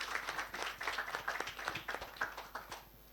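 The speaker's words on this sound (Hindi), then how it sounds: "जोरदार तालियां हो जाए" An audience at a GATE rankers meet claps steadily for about three seconds, a dense, even patter of many hands heard fairly faintly from across the hall.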